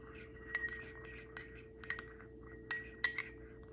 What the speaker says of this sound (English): let's stir it nicely and mix it well